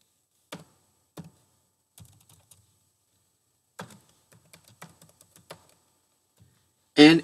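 A password is typed on a computer keyboard as sparse, quiet key clicks in short clusters with pauses between them, ending in a brief louder burst.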